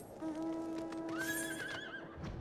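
A horse in the video game Final Fantasy XIV lets out a single clear, fairly close whinny that rises and wavers before fading, alone with no talking.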